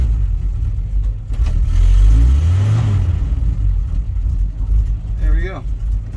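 An old Dodge D100 truck engine turns over and revs, rising into a loud deep roar before settling back to a rough idle, with someone talking over it.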